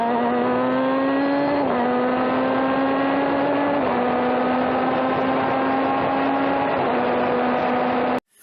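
An Indy-style formula race car screams at high revs on the Sonoma circuit, a steady loud engine whine heard from onboard with a few quick gear shifts and no voices.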